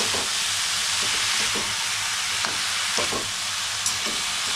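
Kantoli vegetable being stirred and fried in a pan, a loud continuous hissing sizzle with intermittent spatula scrapes and taps against the pan at irregular intervals, close up and without voices.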